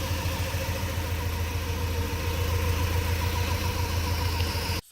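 A Honda H22 engine runs in a Civic, idling steadily and close with a fast, even pulsing throb and a strong low hum, then cuts off abruptly at the end.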